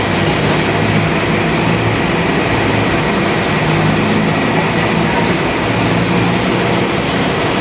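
LRT1 light rail train passing on an elevated track overhead near the Pasig River, a loud, steady rumbling roar that fills the whole clip without a break.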